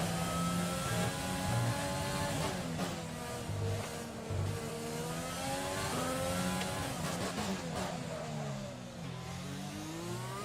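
An F1 2020 racing car screams around Monaco, its high-revving engine rising and falling steadily through gear changes and corners, loud and continuous with no talk.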